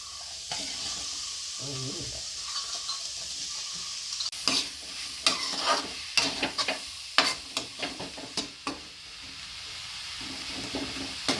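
Green chilies and tomato tossed into a pan of onions for an egg roast gravy, sizzling steadily while a spatula scrapes and stirs in a string of sharp, close clicks and scrapes.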